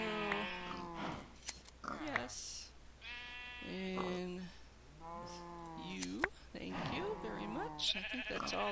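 Sheep in a Western-themed video game bleat repeatedly, several wavering calls in short bursts, fairly close, with brief clicks between them.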